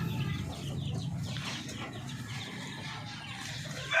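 Chickens and young chicks of a darag flock cluck softly in a steady low murmur, close and fairly quiet, with faint background rustling.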